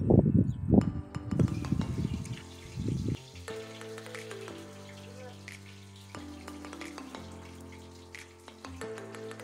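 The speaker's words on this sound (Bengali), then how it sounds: "মা কড়াতে শুকনো লঙ্কা তেজপাতা দিয়ে দিয়েছি, আমি দিয়ে দিলাম পাঁচফোড়ন। এবার এটা একটু ভাজা হবে লাল লাল করে" Dry red chillies, bay leaves and panch phoron fry in oil in a wok for a mango recipe, giving a few seconds of crackling sizzle that then fades into a quieter, steady tonal background.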